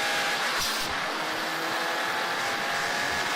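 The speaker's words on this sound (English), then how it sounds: "drive car doing a power slide like this" A car engine roars steadily and loudly throughout as the car power-slides sideways on a Stockholm road, with a constant high-revving drone and no speech.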